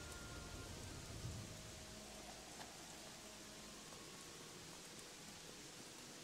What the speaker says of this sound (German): Auf einmal fängt es an zu regnen.